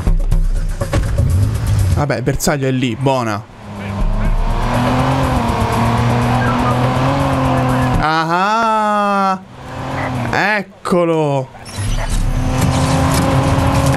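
Target car in Watch Dogs driving hard, engine revving up and down through gears with tire squeals and skids, close and loud, while someone talks over it.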